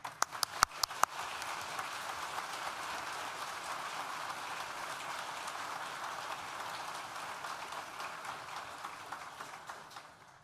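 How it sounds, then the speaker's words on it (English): Sustained applause from a graduation ceremony audience for architecture, design and built environment graduates, a dense, steady clatter of many hands that opens with a few sharp claps and fills the hall for about ten seconds before fading. "Please join me in thanking them with a well-deserved round of applause."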